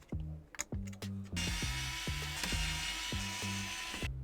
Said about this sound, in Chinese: 卸掉功放板上面所有的螺丝